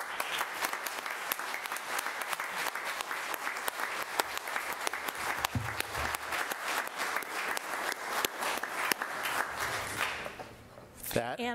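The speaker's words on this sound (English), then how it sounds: "Supervisor Wolf deserves a round of applause for going through 12 of these things" Applause at a board of supervisors meeting, a steady wash of many hands clapping for about ten seconds, fading near the end as a voice briefly comes in.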